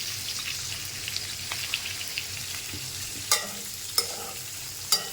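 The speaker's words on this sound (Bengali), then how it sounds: "তেলের মধ্যে শিমলা আলু ভাজা দিয়ে দিলাম।" Shimla potatoes fry in hot oil with turmeric and salt, a steady close sizzle with soft stirring scrapes and a few sharp utensil taps.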